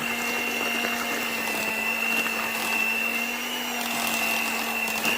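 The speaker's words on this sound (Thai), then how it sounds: "ทีนี้ตีส่วนผสมเข้ากันค่ะ" An electric mixer beats butter and other ingredients for sesame and cashew cookies, a steady loud whirring motor hum with a high whine running unbroken throughout, no talking.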